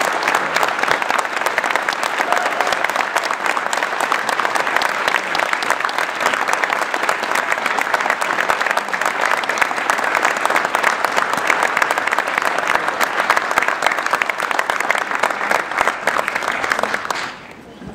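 An audience gives a sustained, loud round of applause for Dr. Allan Forbes, recipient of the Butte College Meritorious Service Award. The steady clapping continues for about seventeen seconds, then cuts off abruptly at the end.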